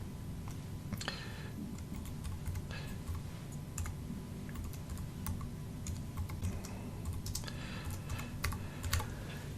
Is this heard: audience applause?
no